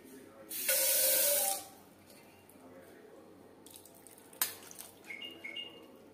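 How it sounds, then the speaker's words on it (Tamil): Water gushes into a pot of cauliflower in a short, strong pour lasting about a second, followed by quieter splashes, drips and clinks of the pot. "காலிஃப்ளவர் முங்குற அளவுக்கு தண்ணி சேர்த்துக்கலாம்"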